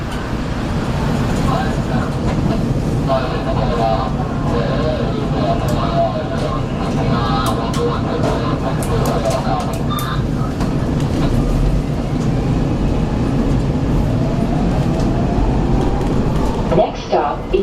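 SEPTA Market-Frankford Line subway train pulling away and running, a steady loud rumble with rhythmic wheel clatter and rising motor whine under occasional talk, ending with a brief sharp burst near the close.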